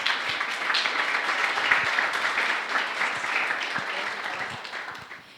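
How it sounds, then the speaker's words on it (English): Conference audience applauding a speaker welcomed onto the stage, a dense sustained round of clapping that holds steady and then tapers off toward the end. "A round of applause, please."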